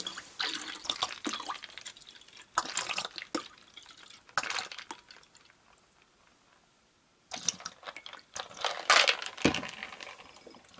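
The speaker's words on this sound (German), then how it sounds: "müssen wir natürlich ein Sieb verwenden, damit das, die Eissplitter nicht in den Cocktail kommen" A cocktail strained over crushed ice while the glass is filled, giving bursts of splashing, dripping liquid and crackling ice separated by a quiet gap, close and moderately loud.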